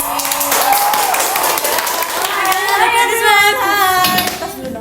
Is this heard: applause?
yes